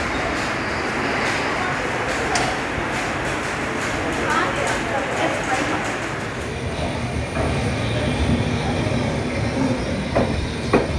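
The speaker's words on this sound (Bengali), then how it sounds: "আমাদের ট্রেন ছেড়ে বেরালো বারসুই স্টেশনের উদ্দেশ্যে।" The Radhikapur Express pulls out of a station, a steady wash of wheel and carriage noise with faint clicks and hiss heard from on board, loud and continuous throughout.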